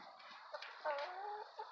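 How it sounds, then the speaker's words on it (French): Hens cluck in short bursts close by on a rural property, a few quick calls rising and falling over a quiet background. "Les poules! Les poulettes!"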